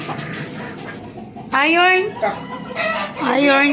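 Chickens and roosters cluck and crow close by. The crowing rings out in loud, drawn-out calls, and softer clucking runs between them.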